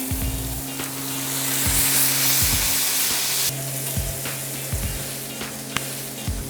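Loud, steady sizzle of a smashed beef burger patty frying on a hot griddle, with spatula scrapes and taps breaking in at intervals and no talk.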